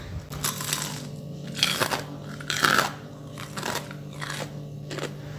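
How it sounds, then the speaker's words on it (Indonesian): Crispy fried mini chicken katsu bitten and chewed close up, a few sharp crunchy bites followed by repeated crackling chews, loud and clear with no talking. "renyah banget ya ayamnya crispy di luar tapi di dalam itu tetap moist"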